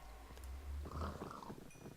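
Pigs in the Minecraft video game give faint, low grunts in the middle of a quiet, noisy game soundscape.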